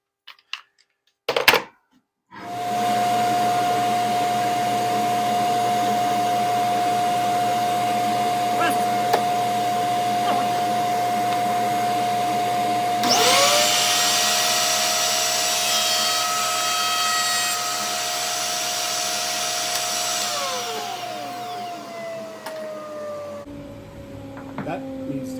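A router fitted with a 3/8 inch roundover bit spins up with a steady high whine and cuts along wood, the tone roughening during the pass before winding down, loud and close.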